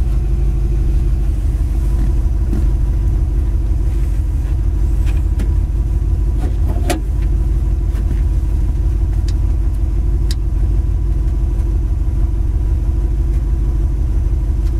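A 1957 Chevrolet Bel Air engine runs at a steady idle, a continuous low rumble with a few faint clicks and knocks over about fifteen seconds, with no talking.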